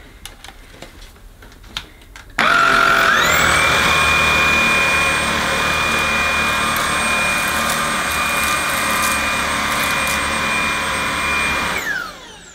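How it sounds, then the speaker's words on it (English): A Tineco A10 Hero cordless vacuum cleaner switches on in turbo mode over a rug, its steady loud high-pitched whine with motor drone running continuously for about ten seconds before cutting off, after some faint handling noises. "I'm going to go over again, but this time on the turbo mode."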